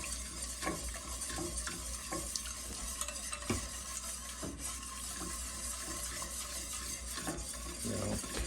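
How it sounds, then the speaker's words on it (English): Batter being whisked by hand while ingredients are added, a steady, close scraping and swishing with scattered clinks of the whisk against the bowl, continuous and fairly quiet throughout. "Keep whisking. Add and whisk, add and whisk."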